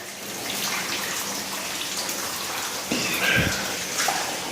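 Dripping and trickling water inside an underground mine level, a steady wet splashing hiss with a few louder splashes near the end, no voices.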